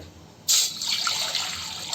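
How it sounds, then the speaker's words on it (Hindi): Water is poured from a mug into a thick-bottomed pot on a gas stove for sugar syrup, a sudden loud splashing gush that settles into a steady close stream. "2 मग पानी डाल दिए हैं।"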